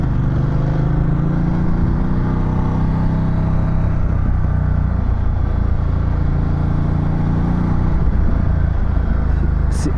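A Ducati 1200 Multistrada motorcycle engine runs loud and close, its steady throbbing note rising and falling as it revs.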